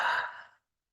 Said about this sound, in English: And we breathe out